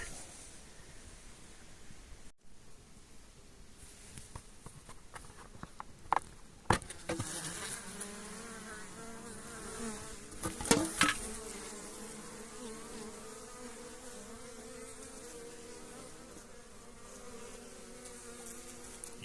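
Honeybees flying around a beehive, a soft continuous buzzing with occasional louder passes and faint rustling close by.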